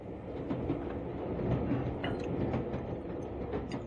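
A steady clickety-clack of a train rolling along rails, a continuous rumbling ride effect from a radio drama, with no voices over it.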